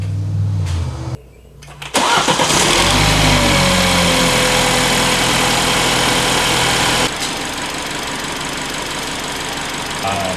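A 2017 BMW F30 330i with the B48 engine and BMS intake cranks over after a brief pause, catches with a loud flare, then settles into a steady, fairly close idle.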